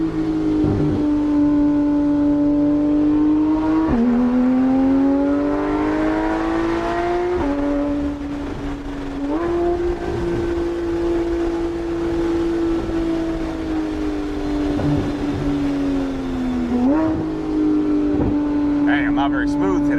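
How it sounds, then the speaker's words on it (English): A loud Porsche 911 GT3 RS (991.1) engine drones steadily at high revs on a mountain road, pitch rising and dropping with gear changes throughout, close and continuous. "you can probably hear this car from 2 miles away"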